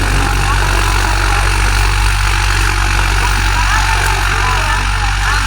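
A tractor engine idles nearby, a loud, unbroken mechanical drone that holds steady throughout with no other sounds over it.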